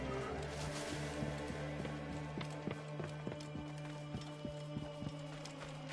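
A horse's hooves pound in a steady galloping rhythm in Assassin's Creed Origins, with evenly spaced thuds over a busy game soundscape at low-to-moderate loudness.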